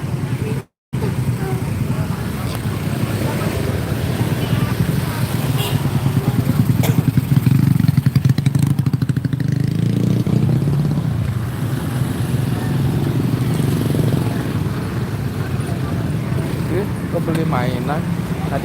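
A motorcycle engine rumbles past on a busy street, swelling louder in the middle and fading again, with traffic clatter and people talking throughout.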